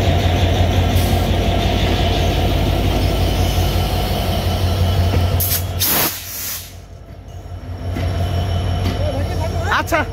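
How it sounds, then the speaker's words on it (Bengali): The Jahanabad Express train pulls out of Noapara station in Bangladesh on its inaugural trip, with a loud, continuous rumble of wheels and carriages close by, squealing rails and a brief rushing burst midway, while a voice speaks over it. "নওপাড়া ছেড়ে যাচ্ছে জাহানাবাদ এক্সপ্রেস প্রথম ট্রিপ নিয়ে।"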